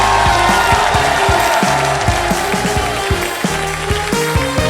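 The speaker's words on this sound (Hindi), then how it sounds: "जोरदार तालियां।" Loud studio audience applause on a game show, a dense, steady clapping that runs throughout with faint cheering mixed in.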